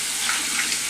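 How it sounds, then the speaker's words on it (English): Tap water runs steadily over mechanical keyboard keycaps being rinsed of soap, a close, continuous splashing hiss. "as I'm running the water, I'll just take a bit, rinse them through"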